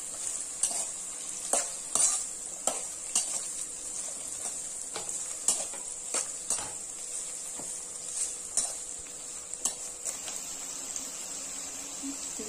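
Garlic sizzles steadily in a hot pan with onions while a utensil scrapes and stirs in regular clacking strokes, close by and without talk.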